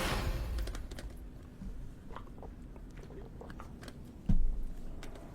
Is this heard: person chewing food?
yes